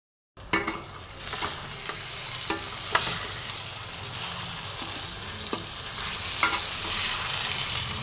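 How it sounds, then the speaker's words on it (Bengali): Chicken being stirred in a pan after a spoonful of chili powder goes in, with a steady sizzle and scraping stir strokes plus a few sharper clinks, close and fairly loud, no talking. "এবার আমি 1 চামচ লঙ্কা গুঁড়ো দেবো। যে আমি আবার মিশিয়ে নেব"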